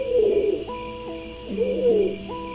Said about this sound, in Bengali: কবুতরের ডাক শোনা যাচ্ছে মনে হচ্ছে?